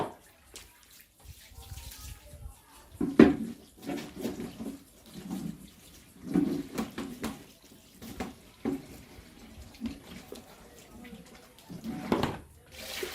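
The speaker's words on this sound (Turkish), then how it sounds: "Üzümlerimizi güzelce kabımızın içerisine alıp üzerine suyunu döktükten sonra güzelce temizliğini sağlayıp" Water poured and splashed over grapes in a container to wash them, with irregular bursts of running water and wet sloshing, fairly faint and close.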